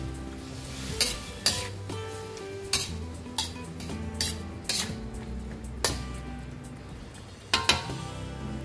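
Tomatoes go into a sizzling pan of linarang, stirred with a metal utensil that clinks and scrapes against the pan every second or so over a constant frying hiss.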